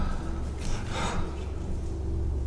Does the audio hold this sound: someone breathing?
yes